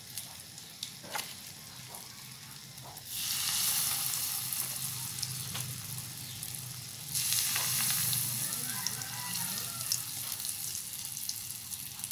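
Food fries in very hot oil while making vegetarian bánh tằm bì, a crackling sizzle that swells sharply in two loud bursts between quieter spitting and bubbling stretches.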